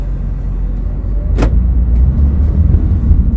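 A 2017 Honda Vezel Hybrid pulls away, its low, steady rumble rising slightly as it gets moving, with a brief click or thump near the start and no talking.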